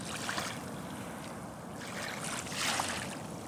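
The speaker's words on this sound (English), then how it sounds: "listening to the water lap up on the shore." Gentle water laps against a shoreline in a soft, steady wash, faint and continuous, with no voices.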